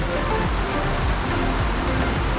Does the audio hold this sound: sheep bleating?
no